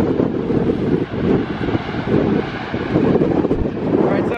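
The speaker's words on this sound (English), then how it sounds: "it's super windy and super cold today" Strong, cold wind blowing outdoors in Asturias, northern Spain, roaring and buffeting the microphone in loud continuous gusts that swell and dip throughout.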